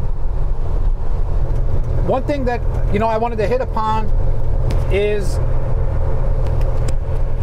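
A roll-off truck engine hums in a steady, loud low drone while the truck is driving, heard from inside the cab. Someone talks over the constant rumble.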